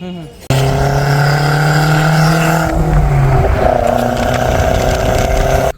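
Force Traveler van engine and exhaust running close and loud, a steady harmonic drone that holds for several seconds and shifts slightly in pitch partway through, as if revving a little.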